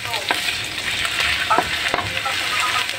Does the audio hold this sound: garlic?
yes